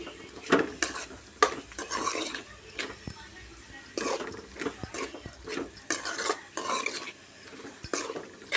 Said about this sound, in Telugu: మంచిగా కలుపుకొని ఉడికించుకోవాలి